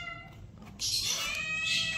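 Cats meow while being fed, a clear drawn-out meow rising after a quiet start and holding close and fairly loud over faint background noise.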